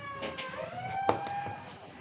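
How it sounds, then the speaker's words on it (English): A police siren wails faintly in the distance at an outdoor baseball game between a sheriff's and police team and an Ellsworth side, its rising and falling tone thin beneath ambient crowd and field noise. "You can hear a little bit of a siren going on there."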